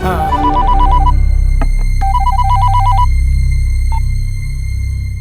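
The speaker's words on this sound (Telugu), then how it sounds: "శంకర్ అన్నకి ఫోన్ చేయ భయ్యా" A loud electronic phone ringtone plays a repeating beeping melody over a low hum.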